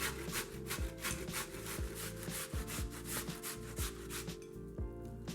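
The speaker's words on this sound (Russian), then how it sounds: "Кабачок натираем на мелкой терке." Zucchini rubbed back and forth over a fine kitchen grater, a steady scraping rasp with regular strokes, close and clear, no talking.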